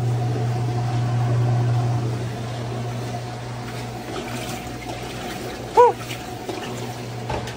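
A Roper top-load washing machine draining, a steady low pump hum with water gurgling and running underneath, close by, interrupted by a brief exclamation from a voice.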